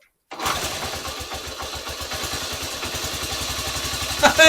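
A Honda CT110 trail motorcycle on part choke and running on reserve catches and fires into a steady, loud putter, its rapid single-cylinder pulses close by after a brief silence.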